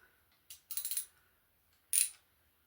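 A small metal bolt drops and clinks with a few sharp, bright metallic taps as it falls into a classic car's engine sump area, then a second ringing clink moments later, close and otherwise quiet.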